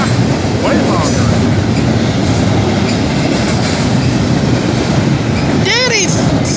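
A long train rolls past close by with a loud continuous rumble and clickety-clack of wheels, ending in a rising and falling horn-like squeal; a voice is heard over it.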